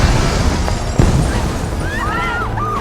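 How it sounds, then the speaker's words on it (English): Explosions in a Bird Box action scene: heavy booms at the start and again a second later, with rumbling debris between them and thin whistling tones rising near the end. "Explosions! And explosions! And why are there so many explosions?"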